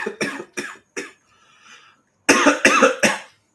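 A man coughs in loud, close bursts: three quick harsh coughs, a pause filled with a faint rasp, then four more heavy coughs in a row.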